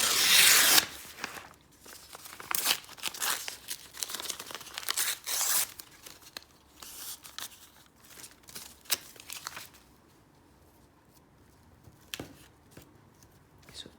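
Patterned envelope paper being torn into strips for a collage book cover, a run of sharp close rips and crinkles that come thick at first, then thin out into occasional handling rustles.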